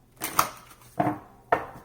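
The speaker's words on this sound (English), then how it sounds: "One more shuffle." A deck of tarot cards is shuffled by hand in three short, crisp rustling bursts, close and clear against a quiet room.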